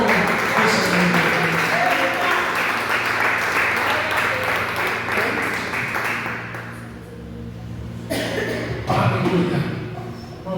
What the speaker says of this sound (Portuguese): fica de pé e aplauda o nome do Senhor